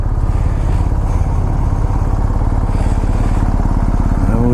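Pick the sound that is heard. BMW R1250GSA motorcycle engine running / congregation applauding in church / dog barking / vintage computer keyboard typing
BMW R1250GSA motorcycle engine running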